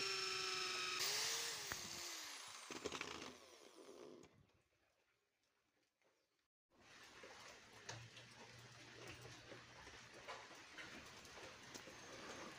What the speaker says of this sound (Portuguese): Utilizamos a furadeira com essa broca e executamos esse processo, esse furo